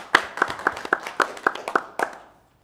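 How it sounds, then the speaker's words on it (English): An audience at a county transportation workshop meeting gives a short round of applause, a sparse run of about ten distinct claps fading out after two seconds. "let's give them another round of applause, I think."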